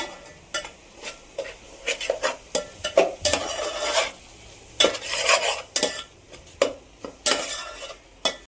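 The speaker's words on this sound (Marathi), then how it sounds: "आता मी हे मसाले जे आपण टाकलेले आहेत ते आता मस्त मिक्स करून घेते" A spoon stirs pav bhaji masala and spices around in a pan, scraping in rapid irregular strokes with a light sizzle, close and loud, and no voices.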